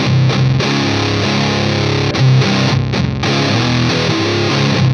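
Electric guitar played through a Pharaoh fuzz pedal, a thick, heavily saturated and noisy fuzz tone with strong mids, sustained chords ringing continuously and loudly with brief changes, no voices.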